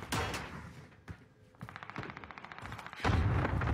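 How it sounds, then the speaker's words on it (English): Gunfire and cluster strike explosions in a multiplayer shooter video game, heavy bursts at the start, a lull with single sharp shots, then steady rapid automatic fire building into a loud rumbling barrage at the end. "Enemy cluster strike."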